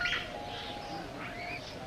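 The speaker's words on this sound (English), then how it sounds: "Roy, you up there with those birds." Pigeons coo and chirp softly in a continuous, close backdrop of bird calls, with no talk over them.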